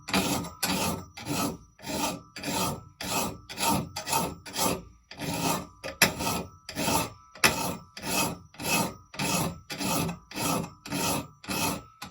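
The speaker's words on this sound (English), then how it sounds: "now I'm going to take a chainsaw file" Steady rhythmic rasping of a chainsaw file across the teeth of a peg and raker saw, about two strokes per second, close and continuous with no talking.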